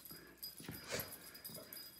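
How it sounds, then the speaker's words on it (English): Dogs scuffle in a brief fight, with short growls, yips and wheezy whimpers bunched in quick bursts, close and moderately loud, with no talk over them. "Dog fighting."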